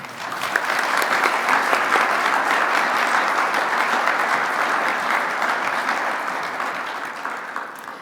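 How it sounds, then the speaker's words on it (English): At a business awards event honoring CEOs of the year, a large audience gives a long, sustained round of applause, dense and even, that tapers off gently toward the end with no talking. "please join me in a round of applause in celebration of these outstanding executives"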